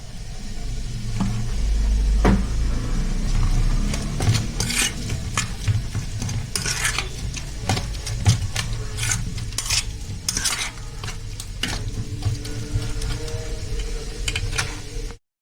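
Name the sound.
stirring fish stuffing mixture with oil in a bowl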